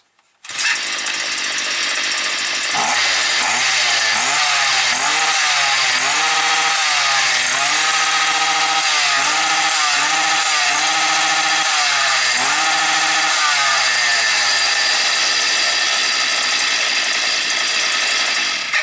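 A Stihl FS 55 brush cutter, previously out of order with a faulty valve, starts with a brief pull and then runs loud and close, its two-stroke engine revving up and down repeatedly before settling into a steady, higher drone.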